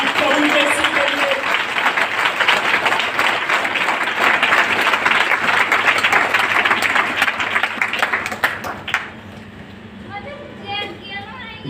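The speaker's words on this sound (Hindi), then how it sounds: "जोरदार ताली प्रभु यीशु के लिए।" Loud, dense applause from a church congregation praising Jesus, sustained clapping that fades out as it nears the end, followed by quieter room sound with a voice.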